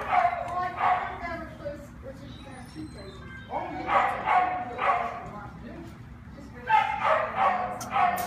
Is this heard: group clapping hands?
no